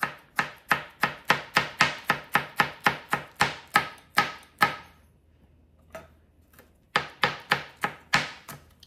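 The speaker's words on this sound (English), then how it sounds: "Let's go ahead and cut up these peppers and this green onion." A dull kitchen knife chopping fresh peppers and green onion on a board, a fast run of sharp, evenly spaced thuds, a brief pause with a single tap, then another quick burst of chops, close and clear.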